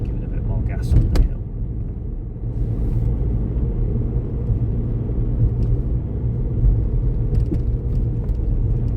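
Car engine pulling up a hill on a narrow UK country road, a steady low rumble held near and loud throughout, with brief knocks early on.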